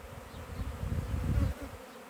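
Honeybees buzz at their hives in an apiary in Jangsu, a dense, low droning hum that swells briefly and then fades slightly toward the end, with no voices.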